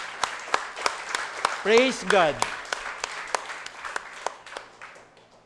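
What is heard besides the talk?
congregation applauding in church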